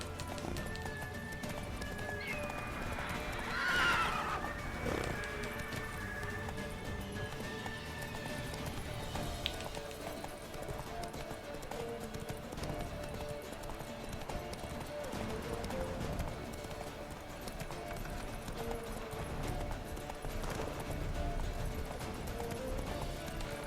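A horse gallops in The Witcher 3, its hoofbeats clip-clopping steadily under game music and ambience, with a brief whinny early on and people talking over it.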